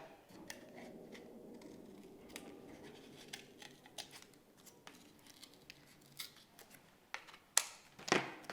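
Scissors snip slots into cardboard for a slot sculpture, a quiet series of close, crisp cuts and rustles, sparse at first and sharper clicks near the end.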